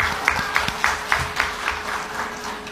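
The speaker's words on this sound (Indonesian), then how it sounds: "Tepuk tangan dulu, Pak" An audience at a talk on government employee welfare regulations gives a short round of applause, the clapping fairly loud with a few sharper individual claps standing out over a low background hum.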